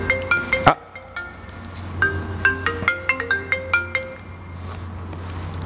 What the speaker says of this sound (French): Allô, Gérald?